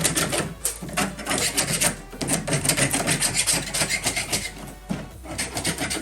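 A razor blade scraping along the edges of clamped diffuser pieces for a turbo Miata, giving a steady, gritty rasping that repeats in close strokes with a brief pause near the end.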